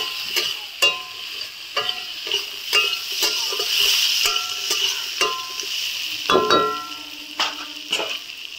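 Potatoes frying with green chili, turmeric and spices, a steady sizzle under brisk, rhythmic spatula scrapes and knocks against the pan, with one louder clatter near the end.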